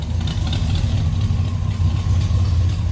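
The 326 engine of a 1966 Pontiac LeMans Convertible idles steadily with a deep, low rumble, close by and continuous throughout.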